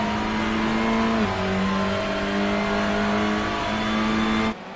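Onboard engine of a TCR touring race car in the iRacing sim at Oulton Park, a loud steady high drone that drops pitch at a gear change partway through before continuing at full throttle, then cuts off abruptly.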